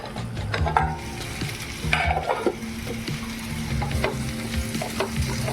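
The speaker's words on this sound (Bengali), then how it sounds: "ভালো করে ভাজা ভাজা করে নিচ্ছি" Potato curry for a breakfast sabzi fries in a pan with a close, continuous sizzle and repeated spatula scrapes and taps from stirring, with no talk.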